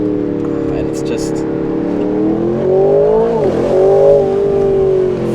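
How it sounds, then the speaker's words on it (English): An Aston Martin Vantage Roadster accelerates at full throttle in first gear out of a tight corner on a cold winter road, its engine rising loud and close in a steady climb, dipping briefly at a shift before pulling hard again. "first gear, full throttle, out of a tight corner"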